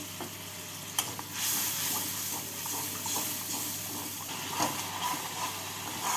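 A spice paste mixed with a little water hisses and sizzles steadily in a hot pan. The sizzle rises and falls as the paste is stirred, with a sharp crackle near the start and no voices.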